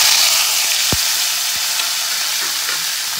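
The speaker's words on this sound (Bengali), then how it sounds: "এবার কুচানো টমেটোটা দিয়ে দেবো।" Chopped tomato hitting hot spice tempering in a vegetarian soybean and potato curry, giving a steady broad sizzle throughout with a couple of brief soft knocks near the start, no voices.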